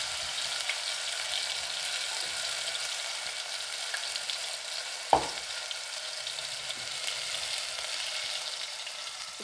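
Close, steady sizzling of a ground garlic, ginger and tomato paste frying in hot oil, a continuous hiss with one brief sharp stir or scrape partway through and no talk.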